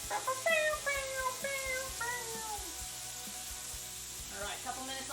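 Steaks frying in a pan hiss continuously beneath lively, animated talk that fills the first half and returns briefly near the end.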